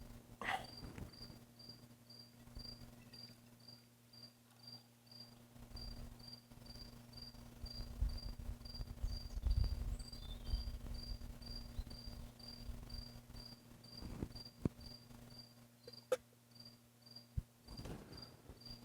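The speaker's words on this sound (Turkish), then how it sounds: "Akşam saatleri cırcır böcekleri bilmem duyuyor musunuz?" Crickets chirp in a steady, even pulse through an evening outdoors, a constant high trill holding for the whole stretch under a low hum, with a few soft knocks and rustles nearby.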